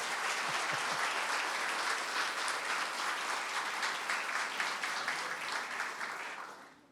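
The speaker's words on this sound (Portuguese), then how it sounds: "Vamos aplaudir o Senhor." A church congregation claps together in dense, even applause throughout, fading out near the end.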